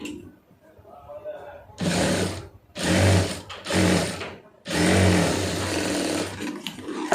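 A domestic sewing machine stitches a folded fabric hem in several bursts of steady mechanical whirring, separated by short pauses, close and fairly loud.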